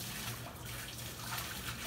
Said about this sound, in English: turn on the water real quick